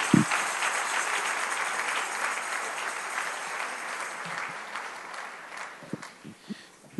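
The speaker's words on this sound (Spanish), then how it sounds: "Dele un aplauso fuerte al Señor." A church congregation applauds, a broad, sustained clapping that gradually fades, with a few louder, isolated claps near the end.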